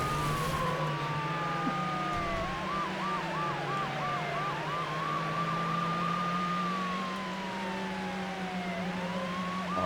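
A police siren in a driving video game wails and yelps loud and close for the whole stretch, cycling through rising and falling sweeps over a steady low engine drone, with no talking.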